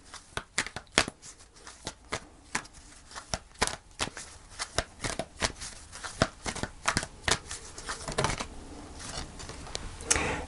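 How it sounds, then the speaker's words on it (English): A deck of tarot cards is shuffled and handled, with a long run of crisp, close riffling flicks and taps in a quiet room before a card is drawn. "So let's pull a final card and see what we get."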